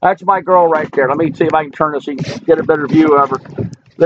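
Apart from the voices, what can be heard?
No everyday noises stand out.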